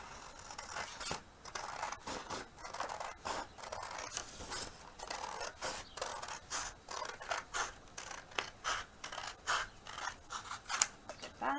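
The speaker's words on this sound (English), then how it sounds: "Use the big scissors for these." Big scissors cut through paper pages for handmade book making, a steady series of crisp snipping and crunching strokes, close and repeated in a regular rhythm with no talking.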